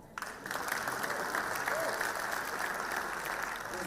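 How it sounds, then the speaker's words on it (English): An audience at a youth crime prevention gathering in eThekwini breaks into sustained, dense applause that swells quickly and holds steady for several seconds, filling the hall. "Please clap hands for that."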